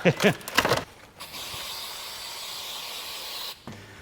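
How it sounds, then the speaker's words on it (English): A brief voice, then a steady hissing aerosol spray of bug spray aimed at ants in a caravan lasts a couple of seconds before cutting off, close and fairly loud. "Time to get the bug spray out."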